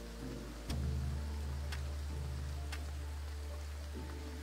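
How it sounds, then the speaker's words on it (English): Steady rain hiss in the game Graveyard Keeper, a constant wash of patter with a low rumble underneath and a few faint sharp ticks. "Ugh, it's raining."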